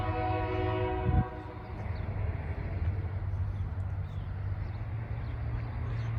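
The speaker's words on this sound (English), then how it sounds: "Oh, here comes the train." A heavy rock freight train with all available locomotive power sounds a long sustained horn blast that cuts off, followed by a loud continuous rumble of the approaching train.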